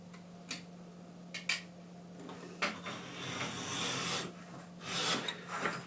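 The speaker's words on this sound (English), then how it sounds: "so I will trim this thick leather" Thick veg-tan leather being trimmed for a briefcase, heard as a series of dry rasping scrapes and short cuts, some quick and isolated, others longer and drawn out, close and fairly quiet over a steady low hum.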